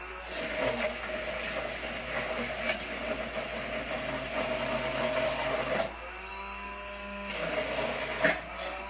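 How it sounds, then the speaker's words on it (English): A steady motorized whir of an immersion blender runs continuously with a droning hum, briefly changing pitch partway through before resuming, with no talking. "I'm going to use my emulsion blender to mix it up"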